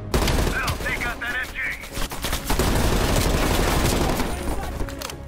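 Rapid, continuous gunfire and automatic weapon bursts from Black Ops Cold War combat, loud and sustained throughout, with a voice talking over the shooting.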